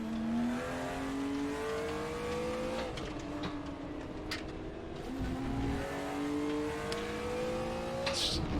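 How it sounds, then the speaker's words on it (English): A BMW M1 Procar's engine revs hard in the RaceRoom racing game, climbing through the gears with sharp shifts, its loud rasping tone rising and dropping repeatedly over several seconds. "Just this car sounds absolutely fantastic."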